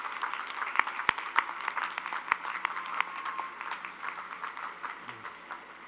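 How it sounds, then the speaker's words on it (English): A crowd applauds at a University of Toledo spring 2021 afternoon commencement ceremony, a sustained round of clapping with sharper individual claps standing out, fading slightly toward the end. "Let's give a round of applause for everyone who made this special occasion a day to remember."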